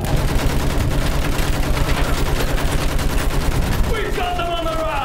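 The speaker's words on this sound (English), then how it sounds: "Use that machine gun! Mow them down!" Battlefield 1 machine gun fire, dense and continuous, close and loud. It rattles in a steady stream of rapid shots over battlefield noise, and a descending whistle or shell sound cuts in near the end.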